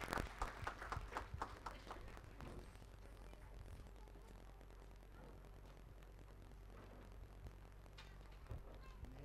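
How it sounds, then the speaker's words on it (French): A church congregation claps for the children at a family service, with a burst of applause in the first seconds that quickly thins out and gives way to low room noise. "On peut applaudir tous les enfants."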